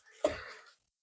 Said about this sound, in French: vous allez m'entendre souvent racler la gorge